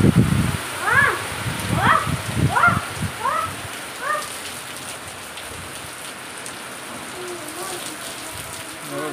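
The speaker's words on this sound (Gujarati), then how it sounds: "ચાલો મિત્રો, અત્યારે જોરદાર વરસાદ પડી રહ્યો છે" Heavy stormy rain pours down on a village, making a constant dense hiss. A few brief chirping calls and soft knocks rise above it early on, then the downpour continues alone.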